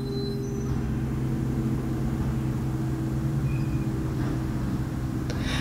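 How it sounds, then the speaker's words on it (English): A low, steady engine rumble of a garbage truck going by outside, distant and continuous, with faint clatters near the end. "And I'm also hearing a garbage truck."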